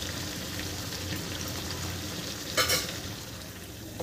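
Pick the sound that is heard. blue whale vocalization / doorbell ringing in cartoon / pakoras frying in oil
pakoras frying in oil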